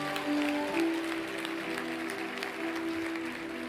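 A church congregation applauds during a sermon, a steady patter of clapping under a held musical tone, moderately loud and continuous.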